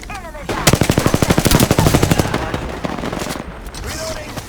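Rapid automatic gunfire in the shooter game Apex Legends, a loud close burst of evenly spaced shots lasting over a second, followed by scattered single shots and clatter, with a voice briefly heard.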